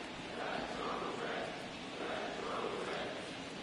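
A crowd at a baseball stadium cheers for the Reds during a Pirates at Reds game, producing a steady, even roar with no distinct voices standing out.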